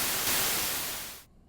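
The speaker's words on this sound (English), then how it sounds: "Let's hear what the noise generator sounds like." The noise generator of the Logic Studio Ultrabeat synthesizer gives a steady burst of bright white-noise hiss, loud and even, then cuts off abruptly just before the end.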